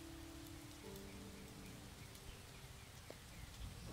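Rain patters on a house in the video game Starbound, a soft, continuous hiss of drops at a faint, even level, with a low sustained tone underneath and no talking.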